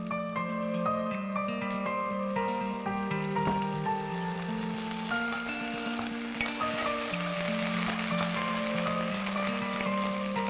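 Stock poured into a sizzling pan for kasha varnishkes makes a steady hiss and bubbling crackle that runs the whole time beneath prominent sustained background music.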